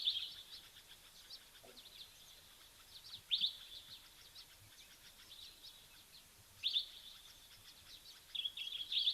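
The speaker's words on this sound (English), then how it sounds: "And you can also hear a dark-capped bulbul." Dark-capped bulbul song rings out as short, bright phrases at intervals over a steady outdoor ambience in an African wildlife setting, moderately distant and fairly faint.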